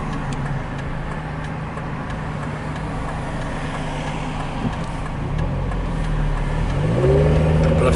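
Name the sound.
road traffic heard from inside a moving car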